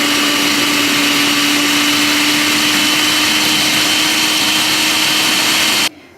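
A blender runs at full speed on spices, cooking oil and lemon juice for a lemon chicken rub, a loud, steady motor whine held for nearly six seconds before stopping abruptly.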